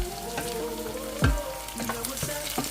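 Onion browning in a pan, a close sizzle with a few thumps and scrapes of stirring, while background music plays underneath.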